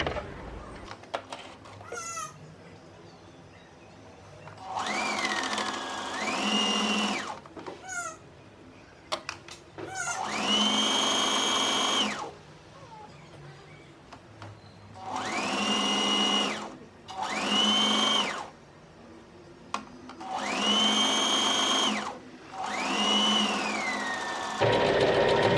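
A sewing machine sewing a quarter-inch dress seam, running in several separate bursts of steady high whirring a few seconds each, with quieter pauses and handling clicks between, close and loud.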